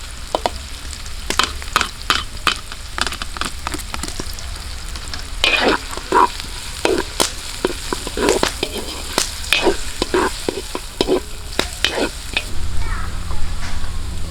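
Garlic goes into onions frying for chop suey at an outdoor cook, and a bright sizzle runs under frequent sharp scrapes and taps of a spatula against the pan, close and fairly loud, with no talk.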